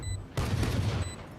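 Gunshots in the Valorant video game during a professional match, a sharp burst of firing that holds for about a second with a brief crack at the end, no speech.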